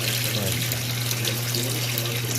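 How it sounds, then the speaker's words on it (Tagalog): Water pours steadily into a Samsung 7.5 fully automatic washing machine as it fills, a loud continuous gushing close by over a low mechanical hum, with a voice murmuring faintly beneath. "Maglalagay niya siya ng tubig."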